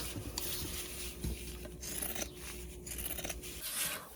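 Pinking shears snip through fabric in a quiet, close series of crisp rasping cuts, with soft rustling of cloth between strokes and no talking.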